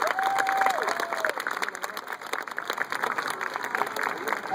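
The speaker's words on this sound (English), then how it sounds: "How about another big round of applause for our 2 stars?" Audience applause and clapping at an aquarium show, a steady wash of many hands with some cheering, continuing throughout at moderate loudness.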